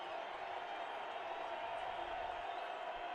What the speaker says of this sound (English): the crowd getting into it here at the Sun Bowl